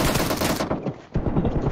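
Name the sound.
gunfire in a video game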